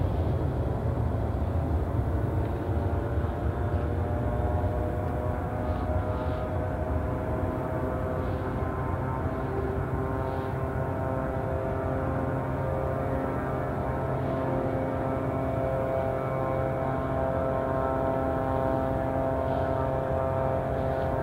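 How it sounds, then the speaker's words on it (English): A British Airways A320 arriving from London Heathrow at Glasgow International Airport makes a steady, sustained engine drone with a tonal whine, heard continuously at moderate distance. "looks like a British Airways A320 from London Heathrow"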